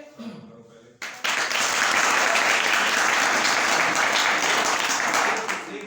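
An audience at a poetry recital in a college hall bursts into loud, sustained applause after a brief stretch of speech, with the clapping holding strong for several seconds before tapering off.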